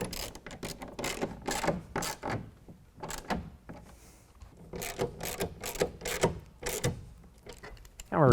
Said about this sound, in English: use the 1/2 inch socket down below to tighten it up